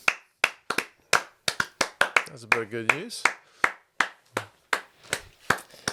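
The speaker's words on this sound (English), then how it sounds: "Am I clapping too long?" A single person claps hands in sharp, fairly regular close-up bursts, with someone speaking briefly partway through.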